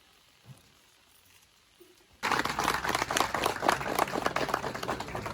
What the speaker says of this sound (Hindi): मैं चाहूँगा सभी ताली बजाकर उनका स्वागत करें।